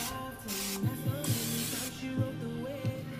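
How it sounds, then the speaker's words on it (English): A single sustained hiss of Pam non-stick aerosol cooking spray, close and fairly soft, with a few light clicks and knocks underneath. "I'm also going to spray some of this Pam, non-stick Pam, on them"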